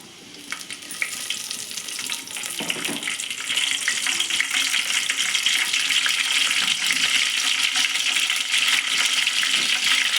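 Tempering spices and a washed bay leaf fry in hot oil for chicken curry, a steady close sizzle and crackle that grows louder and holds through the clip.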